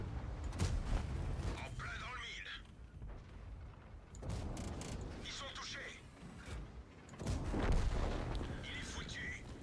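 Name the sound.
tank cannon fire in video game World of Tanks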